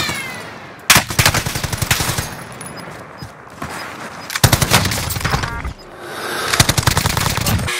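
Call of Duty: Warzone gunfire, with loud rapid machine-gun bursts and overlapping volleys that start and stop in several rounds, close and dense, over a steady background of battle noise.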